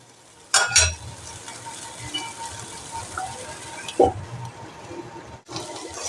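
Potatoes frying in a pan make a low, steady sizzle, with a few spatula clatters and scrapes as they are stirred, including a loud burst near the start.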